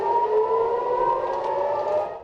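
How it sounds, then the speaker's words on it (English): A loud, steady wailing air raid siren in Jerusalem holds a sustained tone throughout, droning on without pause, with no voices. "warning sirens rang out in Tel Aviv and here in Jerusalem"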